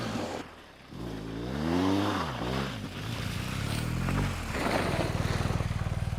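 BMW motorcycle engine revving off road during a skid turn into a power slide, close and loud, pitch rising and falling through repeated throttle bursts, ending in a steady throbbing idle, with no talk.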